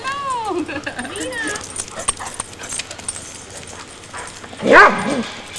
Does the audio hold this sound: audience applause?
no